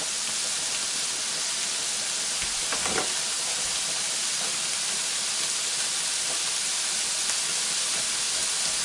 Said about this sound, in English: we're gonna drain noodles